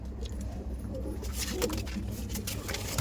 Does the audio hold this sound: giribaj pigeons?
yes